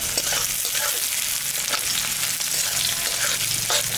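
Chopped onion and crushed garlic fry in hot oil in a pan, giving a continuous bright sizzle with occasional crackles and stirring scrapes, fairly close and heard alone.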